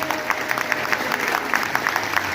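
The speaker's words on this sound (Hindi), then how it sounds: "जोर से ताली बजाइए।" An audience claps at a gathering at Parmarth Ashram on the bank of the Ganga, giving dense, continuous applause from a crowd that stays steady and fairly loud from start to finish.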